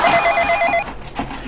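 A mobile phone rings at home with a short, bright electronic ringtone that is loud and near, then stops abruptly.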